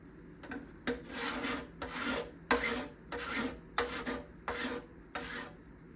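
A hand scraper is drawn over the back-side bindings in about eight even, rhythmic strokes, each a soft, dry rasp with short pauses between, close and fairly quiet.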